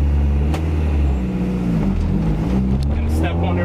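A car with an H22/H23 manual transmission fitted with Mtec shifter springs accelerates, its engine droning loud and close with a steady low rumble throughout, and a voice speaks briefly over it.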